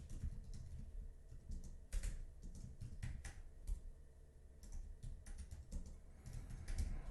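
Keys on a computer keyboard are typed in quick, uneven bursts of soft close clicks at a low level, with no talking.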